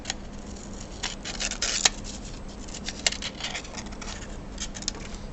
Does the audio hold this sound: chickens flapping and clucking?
no